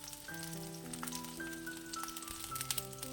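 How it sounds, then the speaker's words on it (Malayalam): Shallots, green chillies and garlic sizzle steadily in hot coconut oil for a peanut chutney, a dense crackling hiss with faint high tonal sounds mixed in, close and continuous. "ഇതിനെ ഒന്ന് വഴറ്റിയെടുക്കണം"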